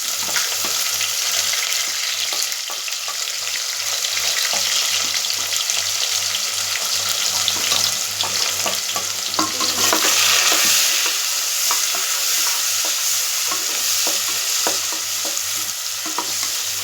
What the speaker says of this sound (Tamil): இப்போ வெங்காயம் போட்டுக்கலாம். வெங்காயம், பச்சை மிளகாய்.